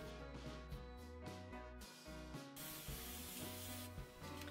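Hairspray hisses from a can onto teased hair during a 1940s vintage bangs styling, with a steady spray against continuous background music.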